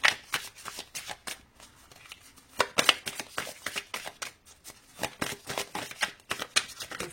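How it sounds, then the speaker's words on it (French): Oracle cards, a wild-plant message deck, being shuffled by hand in quick bursts of crisp riffling flicks with brief pauses between them, close and clear with no talking. "on va aller se tirer une carte."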